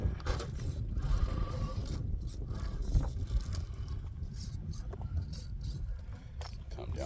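The steering servo of an RC rock crawler on GMade 1905 tires whines and grinds mechanically while the crawler works over a difficult obstacle. A person talks over the close, uneven servo noise and the clicking of parts.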